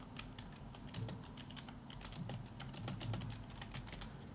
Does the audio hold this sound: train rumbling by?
no